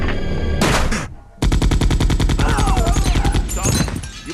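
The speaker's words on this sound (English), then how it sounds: "So the soldiers start shooting." Soldiers fire rapid automatic gunfire in Resident Evil 2 (1998), loud dense bursts broken by a brief pause, with game sound effects mixed in.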